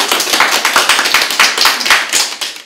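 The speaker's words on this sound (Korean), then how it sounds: "박수 치죠" Classroom of students clapping hands together for a correct answer during a lecture, a dense burst of sharp claps from a small group, steady and close.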